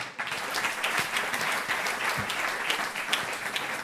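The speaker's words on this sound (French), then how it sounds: "Et merci pour vos applaudissements." Audience applause after names are read out at an architects' professional order event in Nouvelle-Aquitaine, a steady dense wash of clapping from a crowd, fairly even in loudness for a few seconds with no voices over it.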